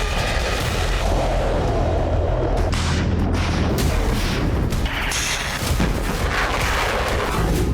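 Missile strikes hit Ukrainian cities and produce a dense, continuous roar of explosions, booms and rumbling that lasts throughout. The blasts overlap loudly with no pauses between them.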